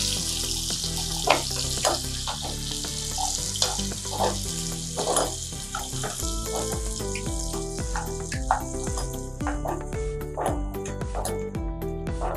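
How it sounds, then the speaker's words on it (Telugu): Onions fry in a hot pan with a continuous sizzle. A dog barks repeatedly in the background and sometimes rises above the sizzling. "ఆనియన్స్ కూడా బ్రౌన్ కలర్ వచ్చే వరకు వేయించాలండి."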